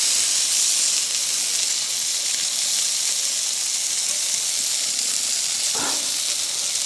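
Egg frying in a pan beside a burger, a continuous loud hissing sizzle with one brief scrape or clunk near the end.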